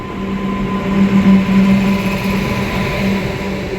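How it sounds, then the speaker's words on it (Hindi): A train hauled by a WAP 7 electric locomotive passing during a rail journey, a loud continuous rumble with steady mechanical humming and rhythmic wheel noise, no voices. "ये सामने WAP 7 के साथ कोई ट्रेन आ रही है"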